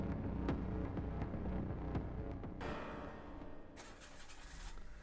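A car engine in a horror video game cranks and catches, with a steady low rumble and throb running through the whole passage, loud and close with no talking over it.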